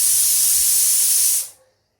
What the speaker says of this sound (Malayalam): ഒരു വിസിൽ നന്നായിട്ട് ഒരു വലിയൊരു വിസിൽ വരുന്നത് വരെ വെച്ചിരിക്കാം